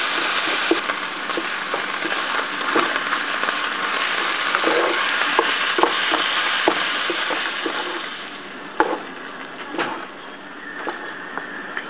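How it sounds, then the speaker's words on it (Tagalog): Ground beef browns in a pan for soboro-style beef, giving a steady, close sizzle with scattered taps and scrapes as the meat is broken apart and stirred, and no talk. "Next, ipapa-brown natin yung ating meat."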